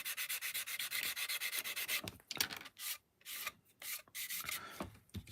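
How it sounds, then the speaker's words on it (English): Coarse sanding stick rubbing down filler on an Airfix Concorde plastic model kit: steady rapid scraping strokes, close and loud, continuous at first, then breaking into separate short rubs with brief pauses. "I'm using quite a coarse sanding stick for this job because it does take a while for the filler to rub down"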